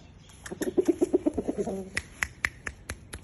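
A quick run of soft, high peeping chirps from small chicks, followed by scattered sharper taps and clicks, fairly close.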